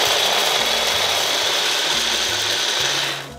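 Chilies being ground in a small electric grinder, a loud steady mechanical whir that runs without a break for about three seconds, then drops off at the end, with no voices.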